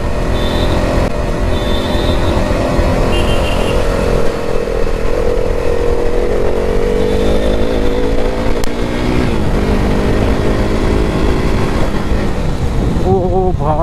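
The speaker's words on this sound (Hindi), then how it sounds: "KTM देख कर स्प्लेंडर भी रेस में लग गया है" A KTM motorcycle and a Honda Splendor ride on a road, with loud continuous engine drone and wind rush throughout and rising and falling revs.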